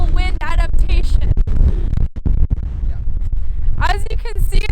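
Strong wind buffets the microphone on a beach, a loud low rumble that runs throughout, with a person talking over it at the start and end.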